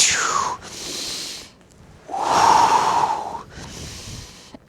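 Deep breaths during a gentle mobility workout for beginners and seniors: two long, close inhales and exhales, each pair with a breathy rush and a softer release, with a brief pause between them and no talking.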